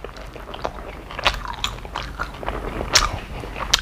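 Someone bites and chews shrimp pempek, a springy Palembang-style fish cake, with close, moist crunching and repeated bites over steady mouth noise and no speech.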